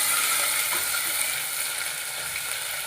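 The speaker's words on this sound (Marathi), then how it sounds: "त्यामध्ये टाकत आहे आता अद्रक लसूणची पेस्ट। थोडीशी आपण आता परतून घेऊया" Ginger garlic paste sizzles in hot oil and ghee, a steady bright crackling hiss close by with faint stirring, no talk.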